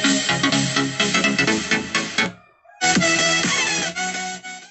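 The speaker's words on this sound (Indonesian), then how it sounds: "itu adalah suara dari speaker" BO A11 mini Bluetooth speaker playing music loudly and close, with dense, bright full-band sound, a brief dip to near silence midway, then playback resuming.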